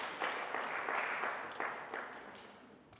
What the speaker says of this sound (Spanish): Tal vez un poco de aplauso por ellos, por ayudar con